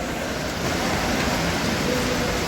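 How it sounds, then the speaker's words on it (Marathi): Water flows in from one side into a tank at a filter house, a dense, steady rushing wash that stays loud and close throughout, with no voices. "त्या बघा, त्या बाजून पाणी येत आहे."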